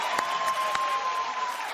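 TV talk show studio audience applauding on cue, a dense, even roar of clapping held steady and fairly close throughout, with a few louder claps standing out.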